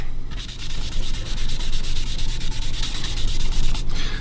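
Steady dry scraping on a quilted maple guitar top, a continuous close rasping rub with rhythmic strokes running throughout and no talk.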